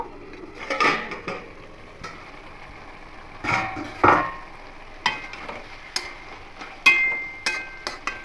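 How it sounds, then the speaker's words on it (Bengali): A lid comes off a pot of banana flower being cooked, with a few sharp metallic clinks and scrapes among soft rustling and a quiet simmer, fairly close by. "এবার ঢাকাটা খুলে নেব"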